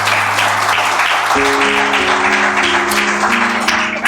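Loud, dense applause from a church congregation during a Spanish-language Sunday service, continuous throughout while sustained musical tones sound underneath.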